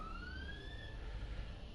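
A siren outside, heard briefly as a rising and falling wail at a distance over low background rumble.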